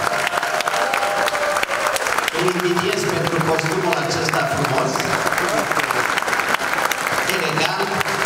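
Audience applauding at a celebration honouring a performer's 85th birthday and 70-year career, sustained loud clapping throughout while someone speaks over it and music begins underneath.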